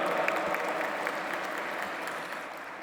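Audience at an interfaith forum opening plenary applauds to welcome a sheikh to the stage, a steady dense wash of clapping filling the hall without a break, moderately loud and even throughout.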